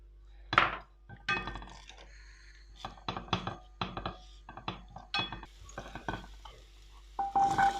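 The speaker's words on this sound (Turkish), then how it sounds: "Ve doğramış olduğum soğanları tencereme alıyorum." Cooking chopped onions in a pot: repeated stirring scrapes and utensil clinks over a faint sizzle, with short bursts of activity throughout.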